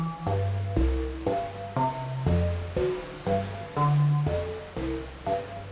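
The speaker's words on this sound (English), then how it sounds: "then I would just add in some white and pink noise" A synth pad layered with white and pink noise plays a slow, steady sequence of sustained chords, changing roughly every half second. The added noise gives it a soft, airy hiss reminiscent of surf. No one speaks over it.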